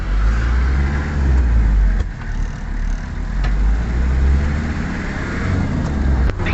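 Mazda Bongo with a WL diesel engine and converted mechanical injection pump pulls steadily along the road on a test drive, a continuous loud engine drone with brief dips as it builds speed.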